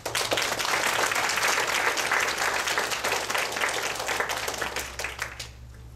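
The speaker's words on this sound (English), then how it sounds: "let's give our supporter a big round of applause" An audience at a community performance event bursts into sustained applause for supporters, a dense wash of many hands clapping that holds steady for several seconds before fading out.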